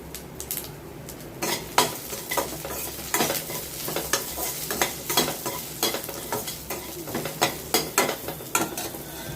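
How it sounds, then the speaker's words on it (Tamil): Onions sauté in a pan for white sorghum upma while a metal spoon stirs and scrapes in repeated rhythmic strokes over a soft, steady sizzle, close and clear, with no speech. "இந்த வெங்காயம் வதங்கிறதுக்கு கொஞ்சமாக உப்பு சேர்த்துக்கலாம்"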